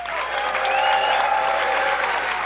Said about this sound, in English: Let me hear a round of applause for this.